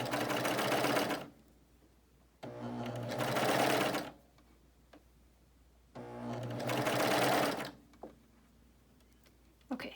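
BabyLock Euphoria coverstitch sewing machine stitching a garment, with three loud, steady motor-driven bursts of rapid stitching separated by quiet pauses with light handling noises.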